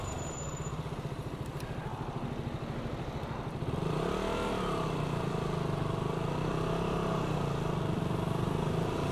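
A motorcycle engine runs steadily while being ridden, a close continuous drone that rises in pitch and intensity partway through as it picks up, with wind rush and no talking.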